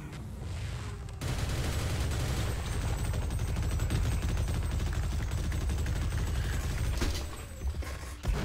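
Rapid sustained automatic gunfire in Half-Life: Opposing Force, a dense continuous burst of shots that starts abruptly after about a second and runs for roughly six seconds before breaking off.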